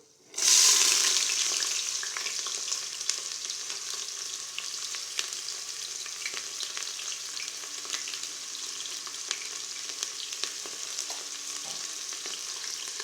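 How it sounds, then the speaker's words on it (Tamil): Onions and green chillies hit hot oil for chicken biryani with a loud initial sizzle, then settle into a steady close frying crackle with occasional stirring, no voices. "வெங்காயத்தையும் பச்சை மிளகாயும் போட்டுக்கலாம்"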